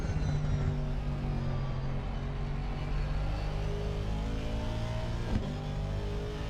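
Race car engines in a sim racing game of a 12-hour Watkins Glen endurance event hold a constant layered whine at moderate volume, with a brief clunk near the end and no voices.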